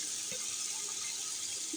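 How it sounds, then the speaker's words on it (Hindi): Rinse water pouring in a steady hissing stream into a pot of pulao being cooked, soft and continuous for a couple of seconds without talk. "इसका खंगाल थोड़ा सा डालती हूँ इसके अंदर में"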